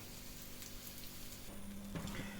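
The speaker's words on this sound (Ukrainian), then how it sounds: "І ставимо, смажимо іншу сторону." An oat pancake fries in an oiled pan after being flipped, giving a steady, soft sizzle throughout with a few brighter crackles near the end, close by and without speech.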